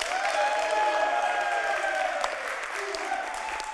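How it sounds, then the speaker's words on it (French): A studio audience at a French game show claps steadily, a dense continuous wash of applause with some crowd noise, loud and close, over a sustained musical tone. "Ils sont derrière nous, ils applaudissent, ils font du bruit."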